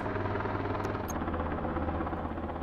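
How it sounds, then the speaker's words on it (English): In a video game, a helicopter hovers nearby with a steady, dense rotor and engine drone that holds constant throughout, with no talk over it. "Yeah, go home, helicopter."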